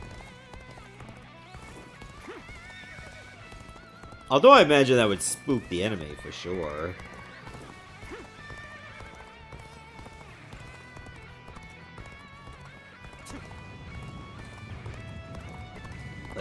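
Horse hooves and a whinny from a galloping mount carrying a skeleton rider in the PS5 game Dynasty Warriors: Origins, a short loud burst of clip-clop and neighing midway through, set among battle ambience and game music with someone talking over it.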